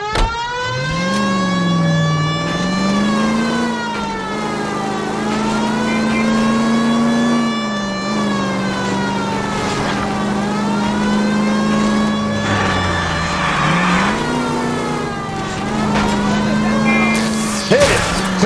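A car engine in L.A. Noire revs and accelerates through shifting gears, its loud, sustained drone rising and falling in pitch across the whole stretch with no one talking.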